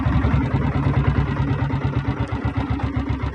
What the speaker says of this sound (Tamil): வண்டி பீட்டு உங்களுக்கு கேட்க நினைக்கிறேன்